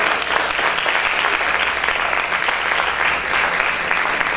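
A church youth congregation claps loudly and continuously, a dense, full wash of applause that fills the room without a break.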